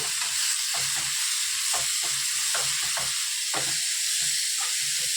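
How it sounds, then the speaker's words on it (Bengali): Spices for a fish curry fry in a pan, giving a loud, steady, close hiss with a rough, irregular low crackle of stirring underneath and no speech. "আর এদিকে মশলা কষাচ্ছে।"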